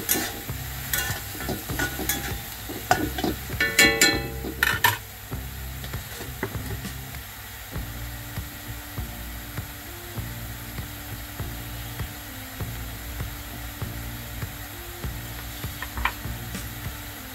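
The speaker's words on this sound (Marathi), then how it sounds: "पुन्हा हे सुकट हलवून घ्यायचं आहे।" Dried shrimp and chopped tomatoes stirred in a frying pan: a steady sizzle with scraping spoon strokes, busier and louder over the first five seconds, then a calmer continuous fry to the end, with no talking.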